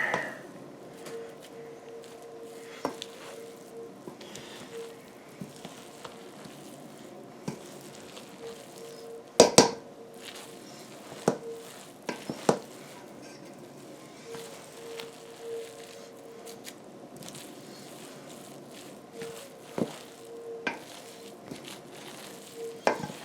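Cooked rice and meat being mixed together for boudin balls: soft, sparse squishing and stirring sounds with a few sharper knocks, close and fairly quiet over a faint steady hum.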